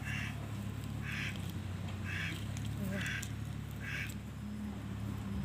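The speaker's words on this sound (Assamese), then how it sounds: "এয়া হাঁহ উমনি দিছিলোঁ" A brooding duck in a cowshed quacks in short, evenly spaced calls, about one per second, over a steady background hum.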